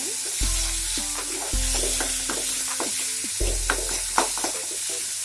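Lotus stem sabzi frying in a pan, with a steady sizzle and repeated stirring scrapes alone throughout, fairly close and moderately loud.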